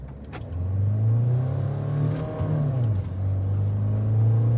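A Mahindra Thar Roxx with manual drive accelerates hard toward 80 km/h, its engine note climbing steadily, briefly dipping at a gear change, then pulling strongly again, loud and close with no talk.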